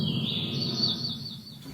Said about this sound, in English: it's just audio bites of birds chirping.